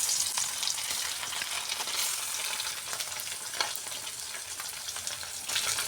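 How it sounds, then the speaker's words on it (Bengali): Pieces of grass carp fish fry in hot oil in a pan with a steady, bright sizzle and crackle, continuous and close, with no talking. "তেল গরম হয়ে গেছে, এবার মাছগুলো দিয়ে দেবো।"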